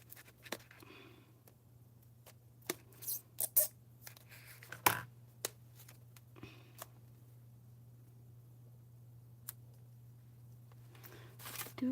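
Faint, sparse snips of scissors cutting paper, scattered irregularly over a low steady hum, close and quiet.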